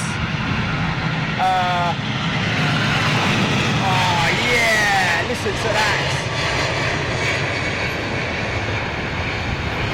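Virgin Atlantic Airbus A350 jet landing at London Heathrow, a steady broad engine roar sustained throughout at moderate distance, with people talking over it.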